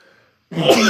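One abrupt, loud sneeze bursts out close to the microphone after a moment of near silence.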